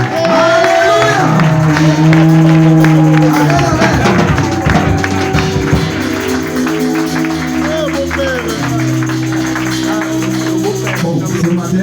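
A church congregation clapping, shouting and cheering together, a loud crowd roar with tapping claps, voices raised and whoops mixed into a dense, continuous swell.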